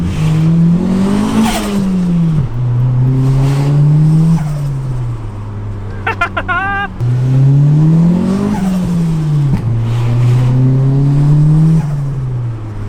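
An old turbocharged Mitsubishi Lancer accelerates hard under boost, its loud engine note climbing through the revs, dropping at gear changes and rising again, with a brief chirp of tire squeal near the middle.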